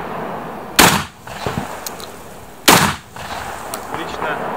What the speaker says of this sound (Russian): Герман нам показывает, как обычные люди, не занимающиеся практической стрельбой, стреляют на своих первых занятиях.